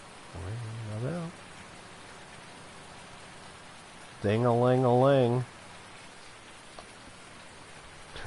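Steady rain hisses in Farming Simulator 19 during field fertilizing, a soft even wash that continues under a voice singing two short bursts.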